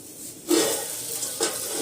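Vegetables hit hot oil for tempering in a home kitchen, giving a loud burst of sizzling that settles into steady frying. A second hiss follows as they are stirred, with no voices.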